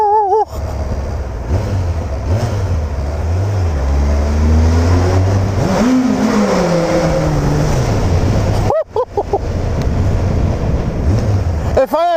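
Inside a tunnel, a car engine revs hard and roars loudly, the echo swelling as pitch climbs and falls in sweeping waves, with a brief cut and a second burst of revving near the end.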